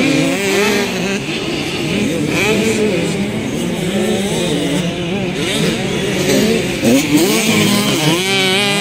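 Small 85cc class race vehicles racing in a track final, engines droning continuously with shifting revs throughout, a loud steady buzz with no talk.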